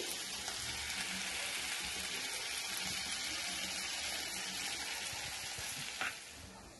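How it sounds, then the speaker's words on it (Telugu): Garlic frying in heated butter and oil gives a steady, soft, continuous sizzle with a faint bubbling crackle that eases slightly near the end. "ఇప్పుడు దాంట్లోకి గార్లిక్ యాడ్ చేసి ఫ్రై చేయాలి."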